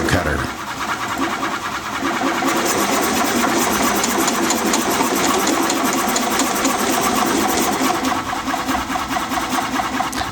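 A Hunter Korpro coring cutter bites into a wood bowl blank spinning on a lathe, giving a steady, loud, dense scraping and rumbling roar with a constant high whine that runs without a break, while a voice speaks over it.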